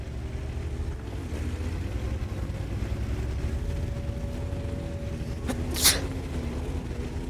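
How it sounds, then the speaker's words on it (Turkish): A single sudden sneeze, short and sharp, bursts out during a World of Tanks match over a steady low engine rumble and background game noise. "Ufak bir hapşırık vakası geçirdik"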